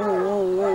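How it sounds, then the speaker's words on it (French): Hunting hounds howling together in a long, steady, drawn-out wail, loud and sustained across the brief moment. "Et Claude, écoute les chiens là."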